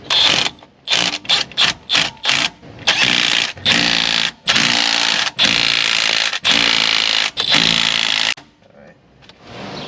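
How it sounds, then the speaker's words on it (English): Bursts of a power tool or impact wrench tightening the axle bolts on a 2015 Tahoe, a run of short spins followed by longer sustained whirring runs, loud and close, ending in quieter shop noise. "get all the bolts started, and then we'll just go around and crank them"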